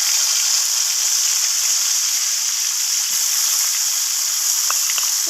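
Chopped tomatoes hitting hot oil spiced with cumin seeds and bay leaves, a loud, even hiss of sizzling with a few faint crackles, no voices.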